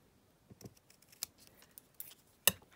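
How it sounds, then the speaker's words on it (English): Scissors trimming a ribbon embellishment in a craft workshop, a few scattered crisp snips and small handling clicks, ending in a sharper cut, close and quiet against near silence. "So I'll just cut it down slightly more because it was perhaps a little bit too big."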